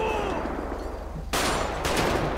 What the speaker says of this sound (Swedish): Skott.